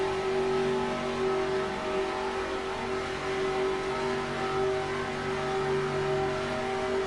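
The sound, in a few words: race cars on the backstretch in NASCAR Racing 2003 video game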